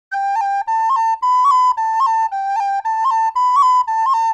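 An Irish polka, "Up and Away", played on recorder: a bright, clean run of separately tongued notes in a lively bouncing rhythm, close and loud, solo with no talking.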